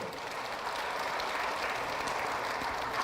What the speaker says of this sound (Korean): 그분들을 위해서 박수 한번 쳐주십시오